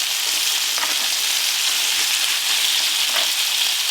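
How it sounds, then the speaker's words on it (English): Beef chunks browning over medium-high heat in a hot pot for a porter stew make a loud, continuous, close sizzle, with a few faint stirring knocks. "I'm going to toss it all in there and get it browned off a little."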